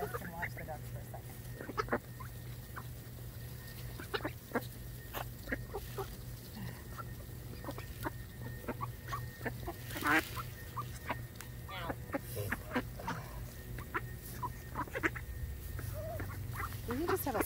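Ducks quack and cluck in an outdoor pen with a steady low hum behind them, producing scattered short calls throughout and a few louder bursts.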